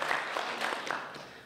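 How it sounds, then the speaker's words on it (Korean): Brief burst of applause from an audience at a mayoral candidates' debate, a dense patter of clapping lasting just over a second. "한 박수 부탁드리겠습니다"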